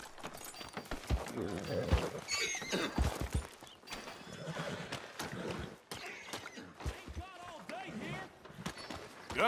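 A horse whinnies and its hooves clop in short bursts over game music and chatter in Red Dead Redemption 2, with one brief pause midway.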